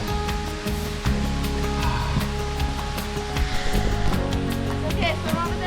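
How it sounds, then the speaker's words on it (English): Steady, roaring rush of the Cascada Las Mesitas waterfall in Panama, broadband and continuous throughout, with voices talking over the cascading water. "after a short hike, we got to the waterfall"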